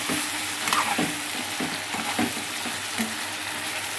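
Vegetables frying in oil in a pan, a steady close sizzle with repeated scraping strokes of a stirring spoon, no voices.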